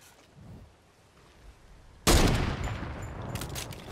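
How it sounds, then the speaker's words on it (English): Gunfire in the Fortnite video game bursts out suddenly after a quiet stretch, a loud rattling volley of shots that continues at close range, with no one speaking. "Are they still shooting at us?"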